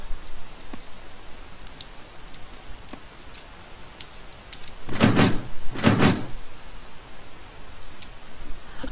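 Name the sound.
stuck door rattling in the video game 7 Days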